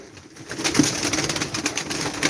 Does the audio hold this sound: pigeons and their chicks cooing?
yes